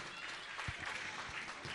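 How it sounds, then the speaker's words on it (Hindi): Audience applause at a Jain monk's question-and-answer religious gathering, a steady dense wash of many hands clapping filling the whole stretch at moderate, slightly distant level. "तालियां बजाकर अभिनंदन कीजिए।"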